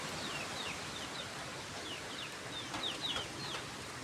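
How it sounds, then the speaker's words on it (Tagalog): Chickens clucking and calling at a distance during a typhoon, short high cries repeating over a steady rushing background of wind. "Yung manok ko naman, umiiyak yung manok ko doon guys."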